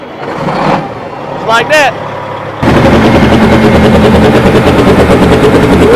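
Cabover truck engine on a jump box cranks briefly, then catches and settles into a loud, steady run that roars up close, with someone speaking over the cranking.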